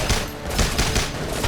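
Semi-auto rifle fire from the video game Homefront: a rapid, dense string of sharp shots that keeps cracking throughout.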